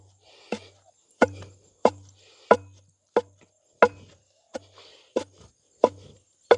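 Sesame seeds pounded for traditional ellu balls: a pestle strikes about a dozen sharp, loud thuds at a steady, slightly uneven rhythm, each hit short and woody with quiet gaps between.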